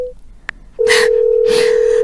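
A telephone call tone on an unanswered line: a short tone blip, then a steady continuous ring-back tone that holds loud and unbroken, with bursts of noise over it.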